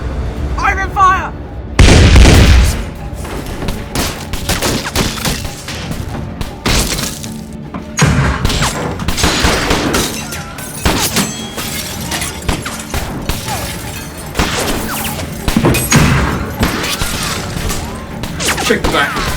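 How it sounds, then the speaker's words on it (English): A loud volley of rifle fire in a period battle against bushrangers, with repeated shots and sharp cracks spread across the scene and shouted voices between them. "Open fire!"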